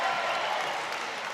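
Wrestling crowd at an NC State versus Virginia college dual meet roaring and applauding after a takedown, a dense sustained wash of cheers and clapping that stays loud throughout.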